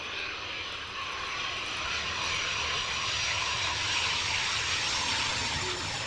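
A steady, broadband aircraft engine roar from an approaching Royal Air Force Chinook helicopter at an airshow hangs in the distance and builds gradually, with no distinct rotor chop audible.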